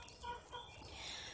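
Chickens clucking close by, waiting eagerly for a snack of coleslaw, their short clucks scattered over a busy farmyard background for just over a second.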